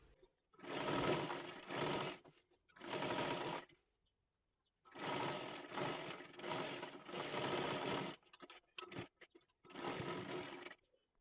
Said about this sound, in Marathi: आपण इथे खालीपर्यंत शिलाई मारून घेतली बघू शकता इथपर्यंत